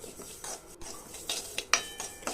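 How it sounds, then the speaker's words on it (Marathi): Sesame seeds dry-roasting in a pan over low heat, stirred constantly, with soft scraping and rustling and a few light metallic taps of the spoon on the pan, close and fairly quiet. "तीळ आपल्याला मंद गॅसवरती सतत हलवत खरपूस भाजून घ्यायचेत"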